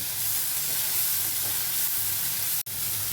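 Cumin seeds and onions frying in hot oil in a pan, a steady close sizzle running throughout with one brief dropout near the end, no voices.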